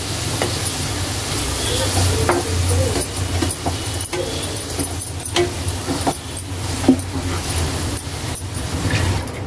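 Grated beetroot fries in ghee for beetroot halwa, giving a continuous close sizzle broken by scraping strokes and small metallic clinks as it is stirred.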